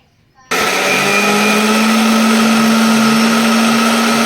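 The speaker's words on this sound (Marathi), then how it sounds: "हे सगळं आपण मिक्सरला लावतो" A mixer grinder starts abruptly and runs at full speed grinding coconut, garlic, chilli, coriander and cumin, a loud steady whirring whine that holds without pause.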